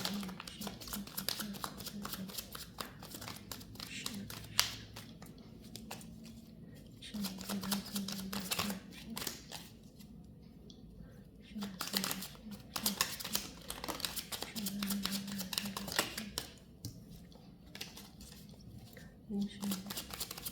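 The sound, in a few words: shuffling cards for a tarot reading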